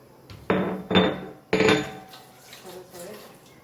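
A spoon clanks against a bowl while dhokla batter is mixed with garlic and chillies, giving three sharp metallic knocks followed by softer scraping and stirring nearby.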